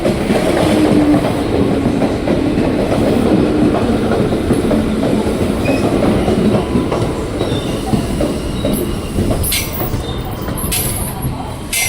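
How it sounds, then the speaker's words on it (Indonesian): A KRL commuter electric train bound for Bogor and Depok rolls through Pondok Cina station, a loud, sustained rumble with rhythmic wheel clatter and occasional high squeals, heard up close throughout. "Ini JRS 20553, komuteran tujuan Bogor tujuan Depok."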